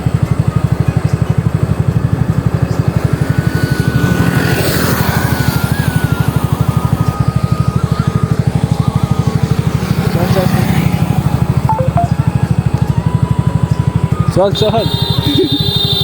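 A scooter engine putters at a steady idle with low, rhythmic pulsing while a novice learns to ride. A person gives instructions in the foreground over the motor.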